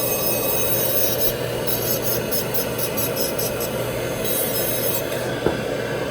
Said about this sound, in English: So using the diamond disc, so diamond ball, just a little bit grind it.